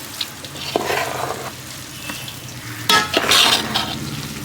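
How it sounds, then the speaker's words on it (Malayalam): Mutton biryani stirred in a pot for a festive meal, a spoon scraping and clinking against the metal while the rice sizzles softly; a louder burst of stirring and scraping comes near the end, with no talk. "ബിരിയാണി ഒന്ന് ഇളക്കി നോക്കാം"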